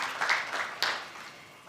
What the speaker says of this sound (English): Another round of applause for both for this important session.